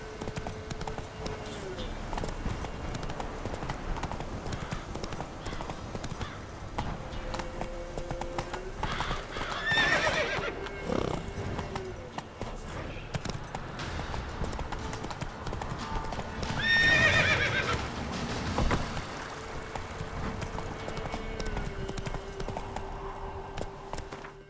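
Roach, the horse in The Witcher 3, gallops with a steady drumming clip-clop and lets out two loud whinnies along the way, while a voice calls out over the hoofbeats.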